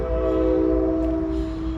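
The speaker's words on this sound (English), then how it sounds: "Train's going by. I guess across the river because the horn's going off a lot." A train crossing a river gives a long, sustained horn blast heard from a distance on a hot, dry July day, with no other sounds over the steady tone.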